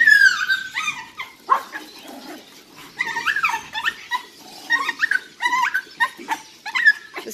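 A hungry dog whimpers and yips while waiting to be fed leftover dog food, sending out high, wavering whines and short sharp yelps in an uneven series close by.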